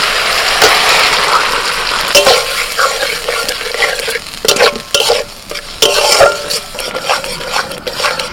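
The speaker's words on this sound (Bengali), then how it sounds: "মশলাটা কষা হয়ে গেলে এবার আমি সিদ্ধ ডালটা ঢেলে দিচ্ছি।" Boiled dal hits a pan of fried spice paste and sizzles loudly while a utensil stirs and scrapes through it, the hiss close and busy with scattered clinks against the pot.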